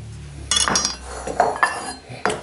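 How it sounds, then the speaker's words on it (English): Kitchen knife cutting peeled ginger into big slices on a board, giving a few sharp close-up clinks and knocks at irregular intervals. "you just cut these into nice big slices"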